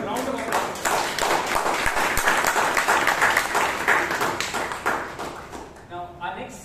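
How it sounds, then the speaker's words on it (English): A room at a Bangalore Toastmasters club meeting breaks into a round of applause, dense clapping from many hands for several seconds that fades toward the end as a voice starts speaking. "Can we have a round of applause?"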